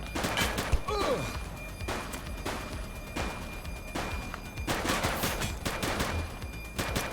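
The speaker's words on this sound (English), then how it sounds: "She's shooting!" Gunfire in the police video game The Precinct, a dense, sustained volley of rapid shots over a noisy backdrop, loud and continuous throughout with a brief voice cry near the start.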